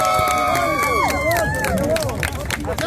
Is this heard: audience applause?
yes